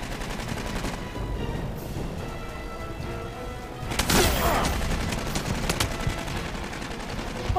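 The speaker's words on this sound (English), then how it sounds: "Switch back to the pulse rifle now." Pulse rifle gunfire in the video game Aliens: Colonial Marines: rapid automatic bursts with a sharp, heavy onset near the middle that stays loud and dense until the end.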